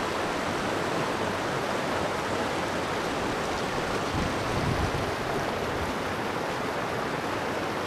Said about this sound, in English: In the background, you can see the water coming down the hill, that little waterfall there.